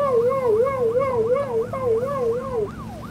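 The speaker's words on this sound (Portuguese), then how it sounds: "Tô com a sirene ligada." A police car siren in the game Broke Protocol wails, rising and falling rapidly in a steady oscillating pattern, loud and continuous with a second siren tone layered over it.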